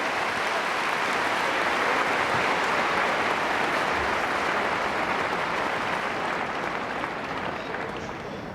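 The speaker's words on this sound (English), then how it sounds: "Ladies and gentlemen, a huge round of applause." A large crowd applauds at the London Olympia dressage arena during the FEI World Cup, sustained dense clapping that fills the space evenly and tapers slightly near the end.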